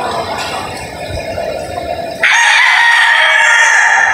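A gamecock at a game farm in Batangas crows loudly and close by, starting faintly and then breaking into a strong, sustained cock-a-doodle-doo in the second half.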